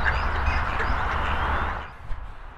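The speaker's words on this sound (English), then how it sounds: "Popular spot with ducks and moorhens." Ducks quack at a mill pond where moorhens also gather, a busy run of calls over steady background noise that drops away near the end.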